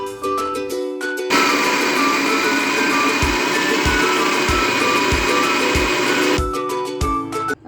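A kitchen grinder runs on a chicken shami kabab mixture with boiled potatoes, a loud steady whirring roar lasting several seconds with short pulsed bursts before and after and a rhythmic thumping underneath.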